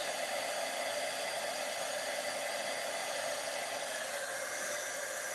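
A heat tool blows steadily to melt embossing powder on a card stamping project, producing a continuous broadband whir that holds level and close throughout with no talking.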